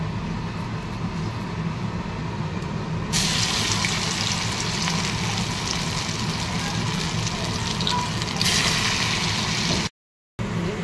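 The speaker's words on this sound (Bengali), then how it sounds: "পকোড়া ভাজা হচ্ছে" Prawn pakoras sizzling in hot oil in a home kitchen, a steady close crackle and hiss that grows brighter and busier partway through, with no talking.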